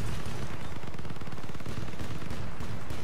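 Machine gun fire in the vehicle combat game Crossout rattles out in a dense, rapid, continuous stream of loud shots, with no talk.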